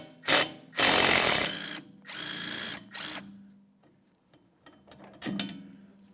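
Power tool spinning out 10mm bolts from a car rear shock absorber on a 2000-2005 Buick LeSabre, several loud whirring bursts of varying length separated by pauses, with quieter clicks and short spurts toward the end.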